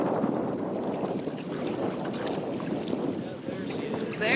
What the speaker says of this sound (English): There's that wind we were looking for.